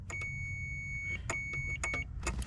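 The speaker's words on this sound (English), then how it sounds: "It should beep." A steady multimeter continuity-test beep sounds over a low hum while probing a ground stud on a 1994–2001 Acura Integra chassis, with a few brief clicks and taps around it.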